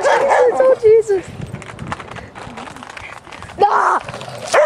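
A dog barks and yips in short, loud bursts close by, mixed with excited human voices talking and calling out around it.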